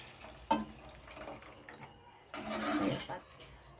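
Tamarind water pours and splashes into a pot of urundai kulambu in two bursts, with a short quiet pause between, close by and moderately loud.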